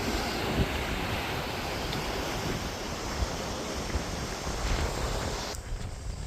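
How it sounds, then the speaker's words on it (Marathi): Strong wind roars steadily across the microphone on a bridge during heavy rain, a broad continuous rush that stays loud throughout, with no voices. "वारा पण बघा कसला सुटलेला आहे"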